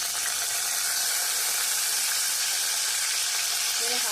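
Ginger garlic paste sizzling in about half a spoon of hot oil in a handi for tandoori chicken tikka masala gravy, a steady close hiss and crackle that keeps going, with a voice briefly under it.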